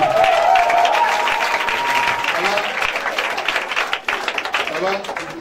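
A church congregation at a deliverance service applauding and cheering loudly, with sustained clapping and crowd voices that gradually thin out, a speaker's voice heard over the noise.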